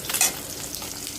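Fish frying in a pan: a steady, close sizzle with a brief louder burst near the start and no talk.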